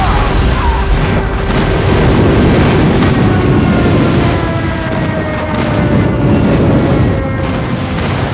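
An enemy airstrike in Call of Duty Mobile, a loud continuous roar of jet noise and rumbling blasts that fills the whole stretch.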